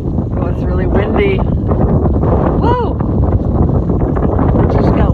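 Loud, steady wind buffeting the microphone throughout, a continuous low rumble with a person speaking over it.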